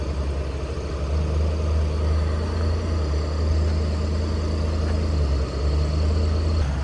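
A Ferrari 575 Super America idles at a car show, its engine a steady, loud low rumble held close by throughout, with no talking over it.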